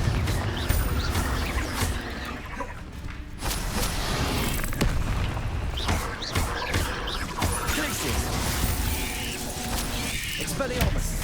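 Confringo fire spells blasting in Hogwarts Legacy combat, a dense, continuous stream of booms, crashes and thuds with sharp impacts throughout, loud and close under constant game action.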